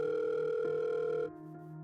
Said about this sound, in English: He dialed a number quickly.